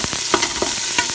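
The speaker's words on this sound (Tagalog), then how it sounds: "Gigisa po natin ng sibuyas" Onions sautéing in a pan for Filipino sweet-style spaghetti, a loud steady sizzle broken by quick scraping stirs of a utensil against the pan.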